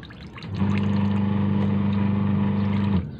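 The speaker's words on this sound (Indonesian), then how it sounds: "lagi muter mesin cuci juga" A home washing machine runs with a steady low motor hum and a churning, water-like whoosh. The sound starts after a brief quieter moment, holds evenly for a few seconds, then drops off.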